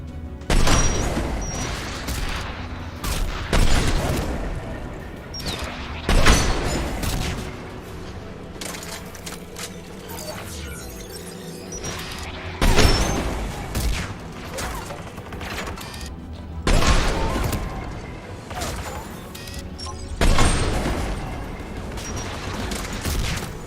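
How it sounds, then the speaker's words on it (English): Anti-aircraft guns in Mass Effect 3 boom in repeated heavy bursts every few seconds, loud and rumbling over a mechanical battlefield din. "AA guns ahead."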